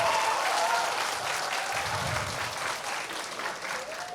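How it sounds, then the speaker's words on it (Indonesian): An audience at a website's soft-launch event applauds steadily for a few seconds, the clapping fairly faint and even. "Boleh loh tepuk tangan."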